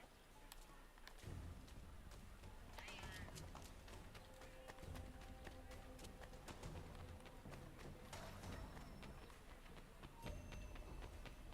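A horse gallops in the Assassin's Creed III Remastered video game, with steady, fairly faint rapid hoofbeats running throughout under game ambience and voices.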